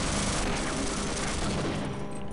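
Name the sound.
sentry machine gun firing in a Half-Life mod, a video game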